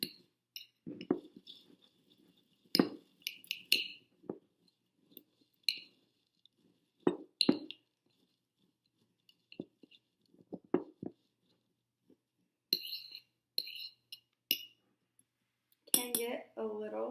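A whisk clinks against a bowl while mixing, in scattered light taps and short clattering bursts between quiet gaps, faint and close.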